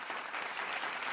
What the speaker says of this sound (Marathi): जोरदार टाळ्या होऊन जाते मंडळी